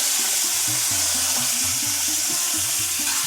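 Cauliflower frying in a pan outdoors on a Padma River char, a steady hiss of sizzling oil running throughout, with a low repeating melodic tone underneath and no talking.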